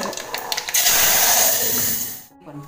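Tempering (phodni) sizzling in hot oil, a loud hissing crackle that swells for over a second and then cuts off abruptly, close up, with faint sounds before the sizzle.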